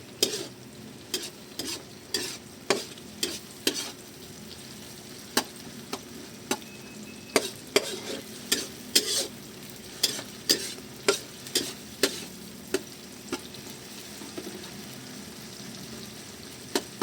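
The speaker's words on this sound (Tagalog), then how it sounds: "tuloy nyo lang ang pagigisa ng ating tomato paste" Tomato paste sautéing in a pan, a soft steady sizzle broken by regular scraping strokes of a spoon or spatula, about one stir per second, close up with no talking.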